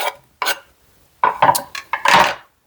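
A kitchen knife roughly chops a quarter of an onion on a board, a few separate sharp knocks and then a quick cluster of cuts, close and distinct.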